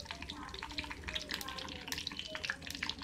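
Spices sizzling in hot tempering oil while cooking keema bagara rice, a continuous crackling fry with scattered pops, fairly soft and close, with faint background noise.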